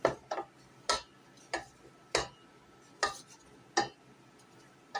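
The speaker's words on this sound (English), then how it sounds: "put it on low heat and stir this stuff together rapidly" Choux pastry dough is stirred rapidly in a pan on low heat, giving sharp, regular scraping knocks, about seven or eight strokes, close and fairly quiet with no talk.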